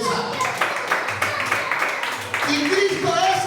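A church congregation claps and cheers together in a dense, sustained burst of applause that runs loud throughout, with voices mixed into the clapping.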